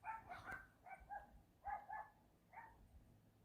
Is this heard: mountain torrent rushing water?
no